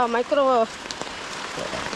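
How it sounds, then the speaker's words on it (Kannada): Heavy rain pours down outdoors, giving a steady, even hiss that fills the whole clip. A brief voice rises over it at the start. "ತುಂಬ ಮಳೆ ಬರ್ತಾ ಇದೆಯಲ್ಲ, ಹೆವಿ ನಾಯ್ಸ್ ಬರುತ್ತೆ ಮೊಬೈಲ್ನಲ್ಲಿ."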